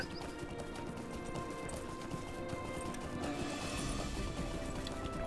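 Horse hooves clip-clopping in the video game The Lord of the Rings Online, a steady run of close hoofbeats over a dense ambient game soundscape, lasting throughout.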